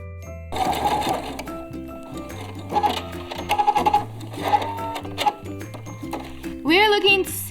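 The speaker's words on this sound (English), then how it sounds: "Let's start sewing." Sewing machine stitching bias binding around curves, running in several short bursts with brief pauses between, close and fairly loud, with a voice talking over parts of it.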